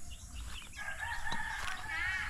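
Chickens in a small backyard coop, with clucking and bird calls rising over a steady low background; the calls are moderately close and continuous, with no talking.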